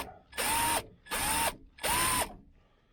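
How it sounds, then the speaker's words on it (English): A power drill bores a 1/8-inch hole in a 1978 Chevrolet El Camino SS cowl induction scoop in three short bursts of similar length, with a whirring motor pitch that rises as each burst starts, separated by brief pauses. "I got my main electric drill here to drill the 1/8 hole through there"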